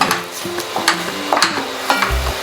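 Chilli brinjal masala curry fries in a pan, a soft steady sizzle with repeated scraping stirs at an uneven rhythm, close by, over faint background music.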